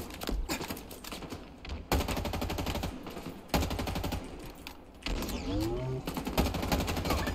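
Rapid automatic gunfire from a Halo Infinite multiplayer match, sustained bursts of rattling shots with brief gaps, loud and close throughout, with game sounds mixed in.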